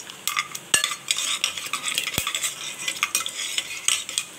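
Cashews frying in oil and ghee sizzle softly under busy stirring, with a metal spoon scraping and tapping the pan and a couple of sharp clinks.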